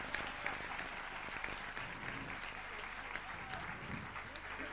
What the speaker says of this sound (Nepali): जोर से ताली लगाइए।